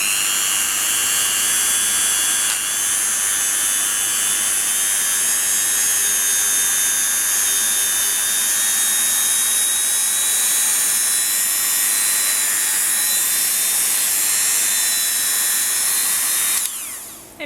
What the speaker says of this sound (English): Then you're just going to grab a buffing wheel.